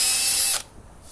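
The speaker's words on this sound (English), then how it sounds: "that helps me start a nice straight drill hole" A power drill bores a hole in pallet wood with a harsh, high whine for about half a second before it abruptly stops, close and loud with no talking.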